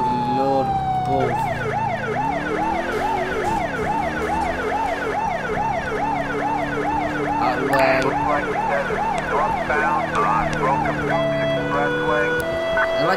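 Several police sirens wail together in a Grand Theft Auto game, loud and continuous with fast rising and falling yelps throughout, while a person talks over them.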